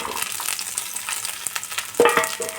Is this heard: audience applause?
no